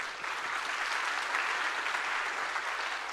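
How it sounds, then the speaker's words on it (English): Audience applause at a public talk on whether we are alone in the universe, a steady wash of many hands clapping that holds evenly from start to end without any talk. "A big round of applause welcoming him here."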